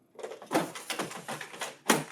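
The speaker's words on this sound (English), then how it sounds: "Insert the tray." A paper tray slides into a Lexmark MX432 laser printer, a close series of plastic scraping and rattling sounds over about two seconds ending in a firmer clack as it seats.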